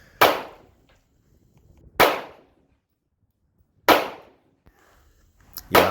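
An IWI Jericho 941 pistol firing 9mm rounds: four loud, sharp shots spaced about two seconds apart, each with a short decaying echo, no talking.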